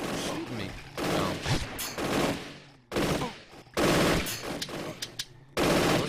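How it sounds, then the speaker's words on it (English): Rapid automatic gunfire and crossfire in the 7DFPS shooter game, dense overlapping bursts that are loud and nearly continuous with short pauses between volleys. "Those guys are actually kind of caught in the crossfire there."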